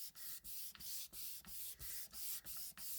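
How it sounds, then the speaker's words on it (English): Paper being rubbed by hand to transfer a design through from the back, a steady scratchy rubbing broken into about nine regular strokes with brief pauses, close and fairly quiet with no talk. "I just keep rubbing and the design's coming through."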